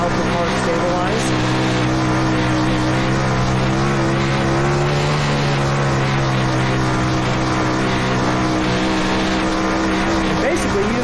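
A winged sprint car racing on a dirt track, its engine a loud, continuous droning roar that swells and eases slightly through the corners, with a voice talking over it.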